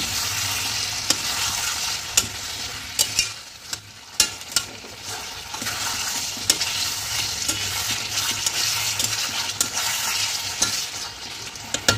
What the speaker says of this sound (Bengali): এবার নুনটা দিয়ে আমি একটু ভালোভাবে কষে নেব